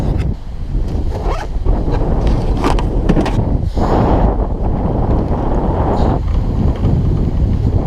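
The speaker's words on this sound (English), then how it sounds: "It's a little windy out." Strong wind buffets the microphone in continuous gusty rumbles, loud and roaring, with no voices.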